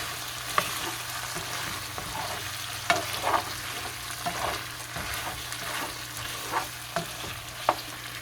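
Rice stick noodles fry over a high stove flame, giving a steady close sizzle broken by irregular scrapes and knocks of stirring, with no one talking.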